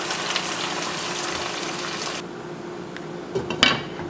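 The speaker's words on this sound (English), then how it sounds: "Then add cold water until you cover half of the chicken." Cold water pours steadily into a pan holding chicken pieces, a continuous close gush that stops partway through. A few clinks of the pan and faint splashes follow.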